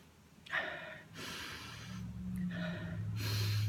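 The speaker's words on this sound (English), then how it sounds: "I'll sniff mine." Someone takes several close, audible sniffs from a glass of home-brewed beer, breathy inhalations in short bursts with pauses between them, no talking.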